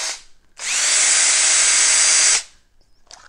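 A RIDGID cordless drill fitted with a 4 amp hour battery revs up sharply, holds a loud, steady high-pitched whine for nearly two seconds, then cuts off abruptly, heard alone and close by.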